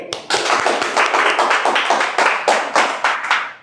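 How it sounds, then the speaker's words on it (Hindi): A steady round of hand clapping in a classroom during a maths lesson, a dozen or so close, sharp claps in an even rhythm, loud and with no talking over it. "ये देखो ताली"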